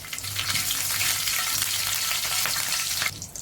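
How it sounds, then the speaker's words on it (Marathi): Mustard seeds, cumin and curry leaves sizzle in hot oil in a frying pan, a loud, bright, hissing crackle held close for about three seconds before it suddenly quiets. "आपण फ्राय पॅनमध्ये तेल घेतले, त्यामध्ये मोहरी टाकली आहे, त्यामध्ये जिरं, कढीपत्ता"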